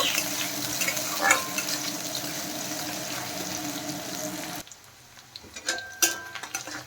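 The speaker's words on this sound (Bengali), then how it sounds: "পেঁয়াজ হালকা ভেজে নেব।" Chopped onions fry in hot oil in a wok for a curry. A dense, steady sizzle holds for several seconds, then drops to quieter crackles with a few sharper pops near the end.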